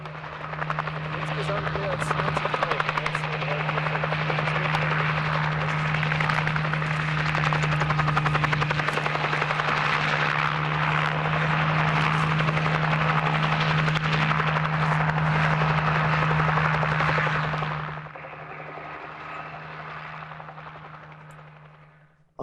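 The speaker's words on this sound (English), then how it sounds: "the helicopter sometimes came within a few feet of the horses." A helicopter chasing wild horses in Nevada drones loudly and continuously overhead with a steady rotor thump and whine, then fades somewhat toward the end.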